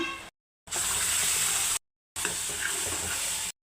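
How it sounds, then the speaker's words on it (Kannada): Water poured into a pan of soybean gravy masala, two steady bursts of splashing pour separated by short silences, close and fairly loud with no talking. "ಸ್ವಲ್ಪ ನೀರು ಹಾಕ್ಕೊತಾ ಇದ್ದೀನಿ"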